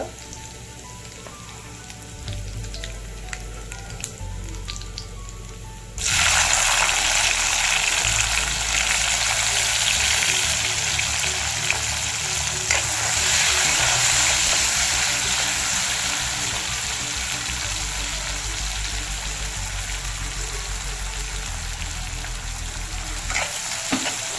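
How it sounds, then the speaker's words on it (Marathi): Spices with asafoetida sizzle loudly while frying until brown, a steady bright hiss that surges in suddenly after a quieter start and holds for the rest, with occasional stirring. "सर्व ब्राऊन होईपर्यंत चांगले कलर येऊपर्यंत भाजून घ्यायचं आहे"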